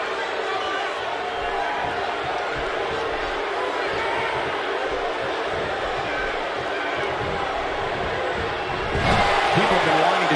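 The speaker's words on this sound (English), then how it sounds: "by the sound of this crowd, I think they're getting what they wanted" Arena crowd noise from a WWE 2K17 wrestling match, a steady loud roar of cheering spectators running throughout, swelling louder near the end, with commentary voices talking over it.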